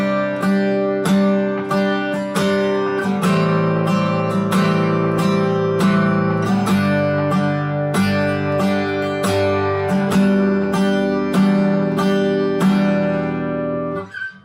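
Acoustic guitar strummed in a steady repeated chorus rhythm, with regular down-up strokes ringing full chords, close and loud throughout with no voices.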